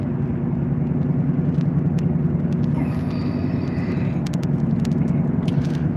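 Steady low engine drone and road rumble heard from inside a moving car, with faint clicks and rattles over the top.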